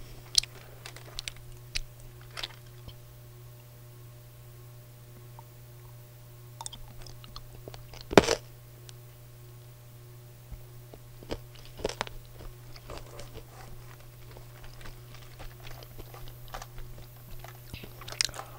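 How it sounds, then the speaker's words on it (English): Lemonhead candies being crunched up close, with brief irregular crunches and bites scattered throughout, one louder burst near the middle, over a steady low electrical hum. "Sorry if you hear crunching. I'm eating some lemon heads right now."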